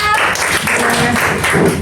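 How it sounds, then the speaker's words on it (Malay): Classroom applause for a student in a Year 5 primary lesson, a brief burst of close, fairly loud clapping from a small group, with a voice faintly under it. "semua bagi tepukan untuk Dura"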